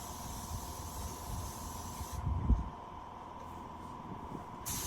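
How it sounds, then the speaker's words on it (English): A SATA spray gun fed by a 3-horsepower Clark compressor hisses steadily while spraying paint on a Peugeot J9 van roof, the spray cutting off partway then resuming, with a low thump in the middle. "That SATA gun is amazing. It really is a nice spray gun."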